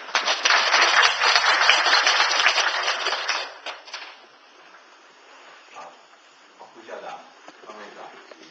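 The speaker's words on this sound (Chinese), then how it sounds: "我们用这个热烈掌声来欢迎这个李院长" An audience at a Christian–Buddhist interreligious dialogue seminar claps warmly to welcome a dean, with steady applause filling about three seconds before a voice takes over.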